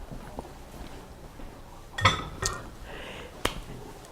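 A few sharp metallic clinks and scrapes of a utensil against a pot as food is stirred over low heat, scattered and close against a quiet background.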